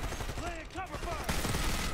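Gunfire in the Call of Duty Black Ops 6 campaign crackles in a short, dense burst mixed under a speaking voice.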